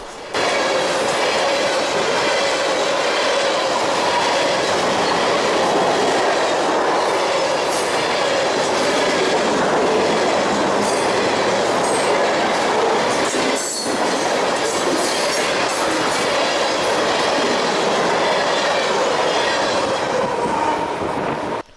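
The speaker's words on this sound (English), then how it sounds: "a nice pair of back-to-back KCS locomotives leading CP train 245" A back-to-back pair of KCS SD70ACe freight locomotives leads a train past at close range, followed by a loud, continuous roar of rolling cars with clattering wheels and occasional squeal throughout.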